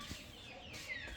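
Chickens clucking in a rural yard, a few short throaty clucks at low volume, close by and without speech.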